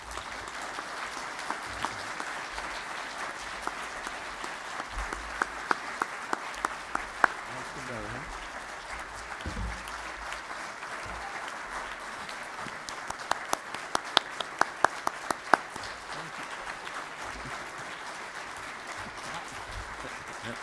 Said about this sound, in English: You're clapping here.